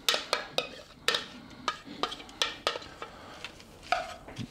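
Shrimp shells toasting in olive oil in a pan on the stove, with a series of sharp clinks and scrapes from stirring. They come at an irregular pace over a faint sizzle.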